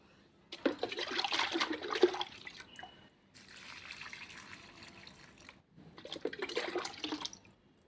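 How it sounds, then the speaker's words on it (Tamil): Rice-washing water poured from a container onto garden plants such as tomatoes, in three separate splashing bursts of liquid with brief pauses between, fairly close and without talk. "இப்போ அந்த அரிசி களைஞ்ச தண்ணியை வந்து நம்ம செடிங்களுக்கு ஊற்றிக்கலாம்."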